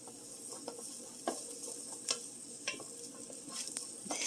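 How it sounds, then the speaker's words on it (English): Onions sweat in a hot pan with a soft, steady sizzle, broken by light clicks and stirring taps, close up and with no one talking. "I love onions cooking. They're already starting to sweat."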